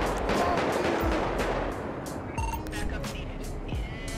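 Gunfire in the GTA 5 video game during a police gang-unit patrol, a dense run of shots and bursts over heavy ambient noise, with someone talking throughout.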